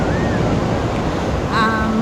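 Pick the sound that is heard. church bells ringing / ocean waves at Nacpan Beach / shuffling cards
ocean waves at Nacpan Beach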